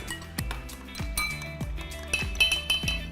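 A spoon stirs 1.5 ounces of whiskey in glasses for old fashioned cocktails, clinking against glass and ice in a quick run of bright, ringing taps, close and fairly quiet.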